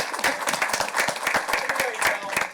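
A round of applause at a general membership meeting, a brisk patter of hands clapping from a modest group indoors, steady and moderately loud for a few seconds.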